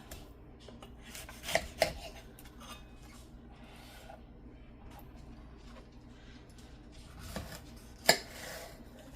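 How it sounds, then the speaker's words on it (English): A knife cuts through watermelon on a board with soft, quiet slicing and a few sharp knocks against the board, spaced apart, over a low steady background hum. "I'm going to cut it this way because there's a specific way that I want to cut the watermelon pieces"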